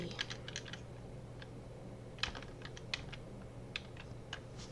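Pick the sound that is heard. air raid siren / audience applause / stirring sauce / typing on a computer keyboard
typing on a computer keyboard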